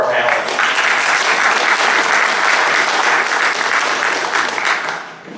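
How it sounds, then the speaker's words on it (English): An audience at a futurists panel claps for the panelists, a loud dense round of applause filling the room without pause before fading out at the end. "let's give a round of applause for our panelists."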